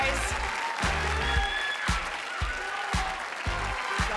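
A school audience at a national STEM championship finale cheers and claps for the winners, with steady applause and rhythmic bursts of noise over a loud amplified announcer voice.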